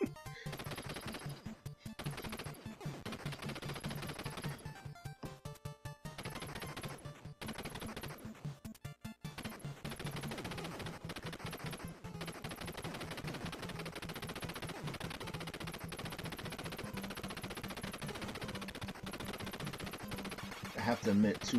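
Machine gun fire in a first-person shooter video game, rapid bursts of automatic shots in the opening seconds, then sustained gunfire under a steady background bed, moderately loud.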